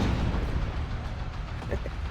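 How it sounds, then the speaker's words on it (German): Continuous low rumbling booms of explosions in the video game The Division 2, heavy and muffled, rolling on without a break and no clear voices. "Aber mir hat die Explosionen da so gefallen."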